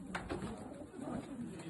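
Pigeons coo softly at a pigeon racing event, a faint low warbling call repeated over a quiet background.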